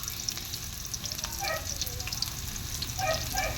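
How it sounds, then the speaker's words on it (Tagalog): Garlic, onion and ginger sautéing in a pan, giving a steady, moderate frying hiss with a few brief clinks and scrapes from stirring. No one talks. "Ginigisa na po natin ng bawang,"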